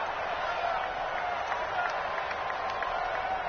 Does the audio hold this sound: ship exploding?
no